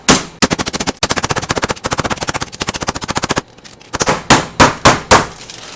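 Raw chicken covered with parchment paper is pounded flat in a kitchen, a fast run of sharp, loud, evenly spaced thuds that pauses briefly and then resumes as slower, heavier single blows.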